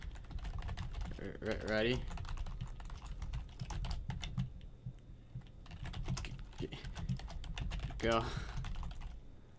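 Rapid typing on a computer keyboard during a Roblox boxing match, with close, dense clusters of key clicks that come in bursts, and a voice speaking briefly twice over the clatter.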